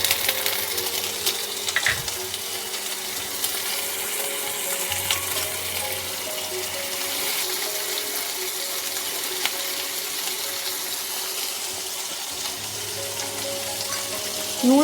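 Salt-rubbed prawns frying in hot oil in a pan, a steady loud sizzle that crackles continuously throughout, with occasional clinks and stirring sounds close by.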